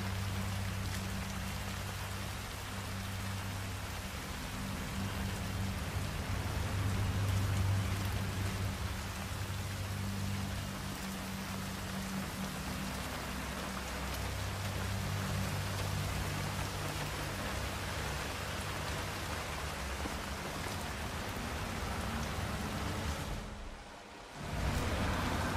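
Steady, dense video game rainfall in Chongqing, China, patters on surfaces throughout, with a low droning rumble underneath and a brief dip in the sound near the end.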